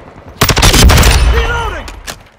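Rapid automatic rifle fire from an STB-556 in Call of Duty Modern Warfare 2 multiplayer, a loud close burst of shots lasting under a second followed by a ringing tail and a final crack.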